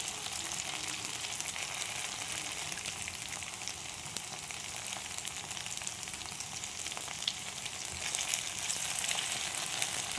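Batter-coated paneer pieces frying in oil, a steady, fine crackling sizzle that runs on evenly and close by, swelling slightly toward the end.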